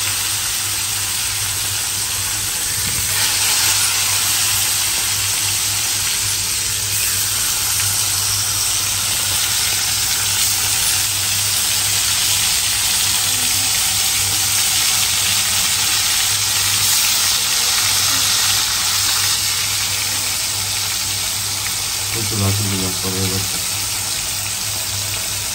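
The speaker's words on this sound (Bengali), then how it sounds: "মাংস ভাজবো।" Meat fries in a pan with a constant loud, hissing sizzle that runs unbroken throughout, with a faint clink near the end.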